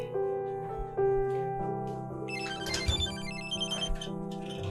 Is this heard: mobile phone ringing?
yes